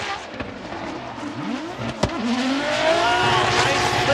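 A Toyota GR86 drift car at a Formula Drift Japan event revs hard through a sliding run, with sweeping engine pitch, a sharp bang midway and tire squeal under a steady roar.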